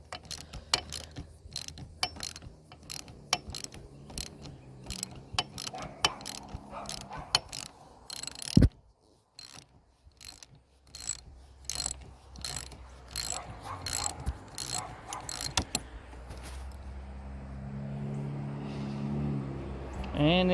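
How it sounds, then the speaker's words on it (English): Ratchet clicks in quick bursts while loosening the bolts on an aluminum ATV front brake master cylinder, with mechanical clatter and some talk at moderate level. "go ahead and just loosen your bolts."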